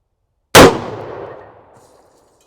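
A single loud, close .400 Legend rifle shot firing 165-grain all-copper ammunition into a ballistic gel block outdoors, a sharp crack followed by a decaying echo tail.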